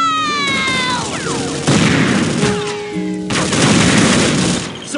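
Suppressing gunfire in Unreal Tournament 2004 with the Ballistic Weapons mod, loud sharp shots and explosive bangs in close bursts, mixed with whooshing effects and falling electronic tones.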